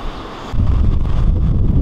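Loud sea surf and gusting wind at Pescara beach in Italy roar in a dense, continuous rumble, jumping louder after a brief quieter moment, with heavy wind buffeting the microphone and no speech.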